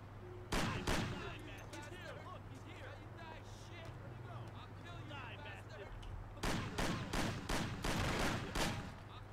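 Bursts of rapid video game gunfire crack loudly in two clusters, one near the start and a denser volley toward the end, over a steady low hum with someone talking excitedly throughout.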